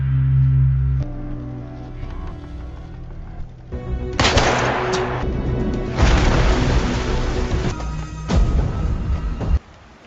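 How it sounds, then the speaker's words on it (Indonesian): Pistol gunshots in a dramatic film scene by a river, a run of loud sharp bangs and bursts mixed into dense action sound and music, with no speech. "Suan tiba-tiba saja mengangkat pistol dan meninggal Kim hingga jatuh ke dalam sungai."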